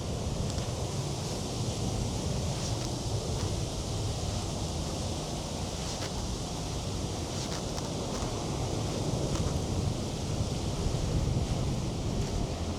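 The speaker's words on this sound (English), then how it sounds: "Excuse the wind, folks, it is quite windy down here today." Strong wind buffets the microphone outdoors at a runway visitors park near an airport, a loud continuous rumbling roar with gusting surges and no voices throughout.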